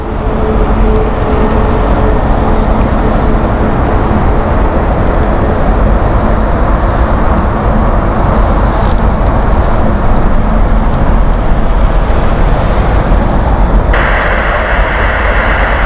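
TAP Air Portugal Airbus A321neo at Heathrow Airport, a loud, continuous jet engine roar filling the whole stretch, steady and close with a slight tonal shift toward the end.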